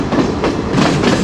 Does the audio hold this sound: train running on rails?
yes